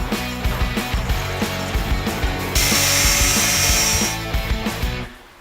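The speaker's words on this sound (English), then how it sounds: "let's cut one open and see what's inside." A RestoMod fuel tank is cut open with a tool that makes loud, rapid, rhythmic rasping strokes, a harsher burst in the middle, and an abrupt stop near the end.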